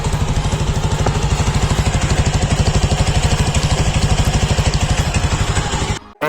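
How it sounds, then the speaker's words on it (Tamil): Yezdi Scrambler motorcycle with dual exhausts idling close up, a loud, steady, even thumping beat that holds for about six seconds before cutting out abruptly. "அப்புறம் வண்டியோட எக்ஸாஸ்ட் ஒன்று மெயினாக கேட்டுருங்க."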